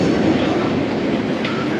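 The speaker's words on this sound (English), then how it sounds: "just hear one train departed already" A London Underground Central Line train pulls away from a platform, a steady loud rumble of wheels and motors filling the space throughout.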